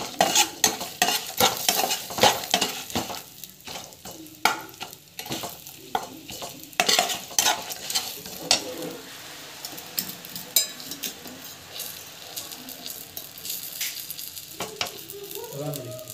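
Food sautés in a pan with busy, repeated scraping and clinking of a spoon, an irregular stirring rhythm over a steady sizzle, close and fairly loud, no voices.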